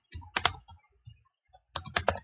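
Keys clatter on a computer keyboard in two quick clusters of taps separated by a short pause, close and clear, with no voice.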